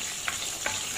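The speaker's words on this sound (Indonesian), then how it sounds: "Panaskan sedikit minyak, kemudian kita masukkan ini semua. Aduk sampai merata." Spice paste sizzles faintly in hot oil while a spoon stirs it, scraping twice against the pan under a steady frying hiss.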